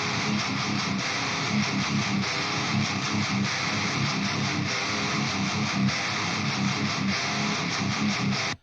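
A Swedish death metal guitar tone, shaped by EQ and multiband compression, plays dense, saturated riffs with a buzzing, chainsaw-like edge, continuous and loud the whole way through before cutting off abruptly.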